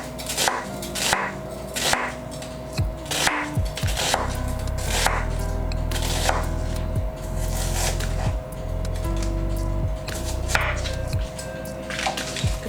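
A knife cuts red onion into long slices on a cutting board, a run of close, crisp rhythmic chops over a steady low hum, the strokes repeating evenly throughout.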